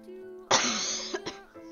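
A single sharp cough close to the microphone, followed by a couple of smaller throat-clearing bursts, set against faint background music.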